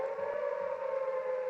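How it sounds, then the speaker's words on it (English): Sirens from the 1960 film The Time Machine, a steady wailing tone held at one pitch throughout, fairly loud and alone with no voices. "They have sirens."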